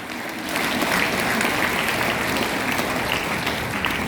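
Audience applause at a teachers' award ceremony, steady dense clapping that starts after a brief lull and continues evenly.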